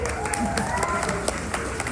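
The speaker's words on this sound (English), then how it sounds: "let's give them all a round of applause" A crowd at a drawing event claps for the ushers, a diffuse round of applause with scattered cheering and overlapping voices, moderately loud and fairly distant.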